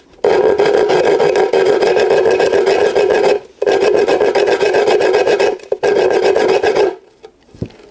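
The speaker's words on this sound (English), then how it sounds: "What we can do is, using a file, just literally" A hand file rasps resin drops off the edge of a carbon fibre enclosure in three long, loud, steady strokes, with brief pauses between them and a soft clatter at the end.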